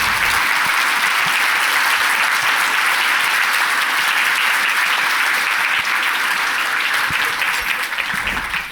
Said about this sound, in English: please welcome with an outstanding round of applause